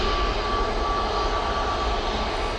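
A Boeing 737-800 jet heading off, a steady broadband engine roar with a faint whine, moderately distant and alone, no talk.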